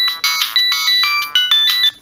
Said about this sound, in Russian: Ну вот это единственный полный рингтон.